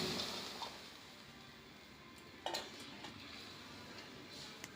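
Garlic is stirred in melted ghee in a pot while broccoli soup is being made. The spoon gives faint scrapes and a few light clinks against the pot over a low, quiet background.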